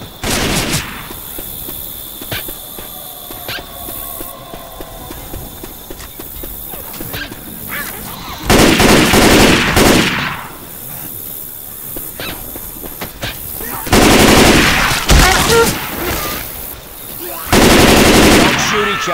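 Rapid automatic gunfire in the zombie shooter Left 4 Dead 2, loud bursts breaking out in separate clusters between quieter stretches of game noise, with brief voices calling out in between.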